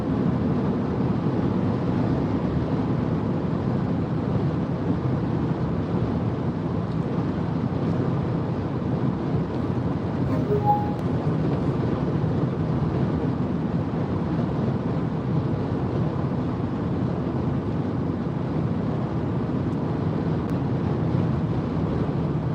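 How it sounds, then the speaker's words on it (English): Steady broadband wind and road roar inside a Rivian electric vehicle driving into a headwind, continuous and fairly loud throughout with no talking. "I can hear the headwind going this way"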